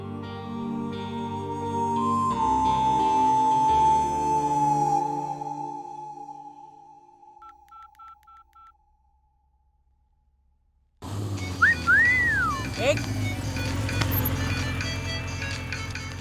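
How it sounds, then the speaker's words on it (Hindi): A melodic electronic ringtone jingle plays loudly for several seconds and fades, followed by a few soft beeps, then a burst of noisy background sound. "किसी का फोन है यार।"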